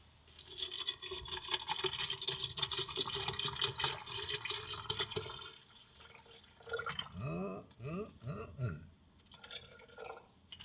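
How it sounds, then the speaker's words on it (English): Water is poured into a homemade fly trap container, giving a steady splashing rush for about five seconds before it trails off. A voice speaks quietly afterward. "now we're going to smack some water in here."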